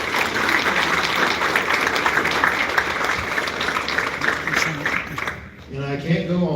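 Audience applause at a community address about new crosswalk lights for a local high school, a steady wash of many hands clapping that fades near the end as a voice begins speaking.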